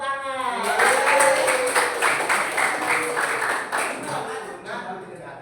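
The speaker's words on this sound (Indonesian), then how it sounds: "Tepuk tangan." A class of vocational high school students clapping hands together in a classroom, a busy burst of claps rising quickly and holding steady before thinning out, with voices and chatter heard through it.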